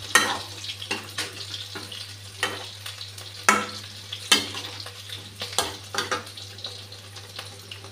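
Sliced ridge gourd and potato go into a pan of oil with fried poppy seeds, sizzling steadily while a spatula scrapes and stirs in repeated sharp strokes, close and clear with no talking.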